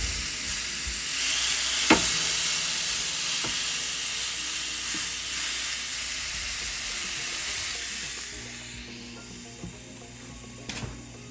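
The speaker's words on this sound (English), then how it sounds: "Nice sizzle." Steaks sizzle steadily on a Ninja Foodi Smart XL Grill, a loud continuous frying hiss that tapers off toward the end, broken by a few sharp clicks and taps.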